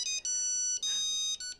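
A mobile phone ringtone rings loudly and close, a bright tonal electronic tune in repeated held phrases separated by brief gaps, with no other sound.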